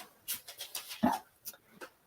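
An old dog at home comes up during a Zoom call, giving a series of soft short whimpers and yips spread across a couple of seconds, fairly faint and close.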